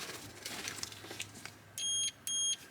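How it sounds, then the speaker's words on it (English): Two short electronic beeps from a multimeter continuity tester, used on connector pins while working on a Porsche 928. Each is a clear tone lasting about a quarter second, following quiet handling noise. "Multimeter set to the beepy one."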